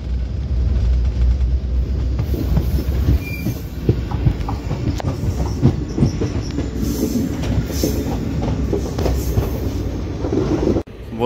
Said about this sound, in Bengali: আমাদের ট্রেন এখন ছেড়ে দিল মারওয়ার লোহাওয়াত থেকে